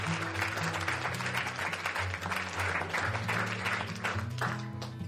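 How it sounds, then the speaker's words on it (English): An audience at a Homeless FA football event claps steadily for several seconds, the applause mixed with loud, sustained music. "I want you all to clap each other"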